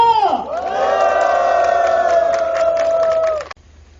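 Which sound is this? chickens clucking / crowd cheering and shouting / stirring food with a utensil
crowd cheering and shouting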